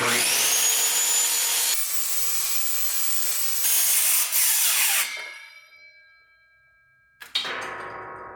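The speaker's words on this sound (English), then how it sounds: "I'm gonna have to cut a whole nother sheet for this last couple feet" A sheet of MDF is cut with a power saw in a workshop, a loud continuous whine and rasp for about five seconds that winds down and fades, then a short second burst of cutting near the end.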